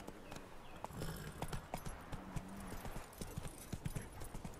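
Roach, Geralt's horse in The Witcher 3: Wild Hunt, trots along with a steady clip-clop of hooves, each hoofbeat crisp and close, and a faint snort or whinny mixed in.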